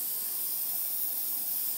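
An airbrush sprays a light mist of paint along model panel lines for weathering, a soft continuous airy hiss close by that lasts the whole brief moment.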